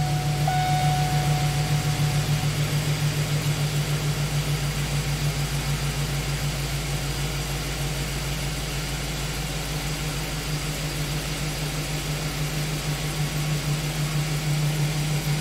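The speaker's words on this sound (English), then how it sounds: "So let's start the van and scan it and look at some live data" A Chevy Express van engine idles steadily, giving a continuous low hum with a faint mechanical buzz that holds even throughout, close by and with no talking.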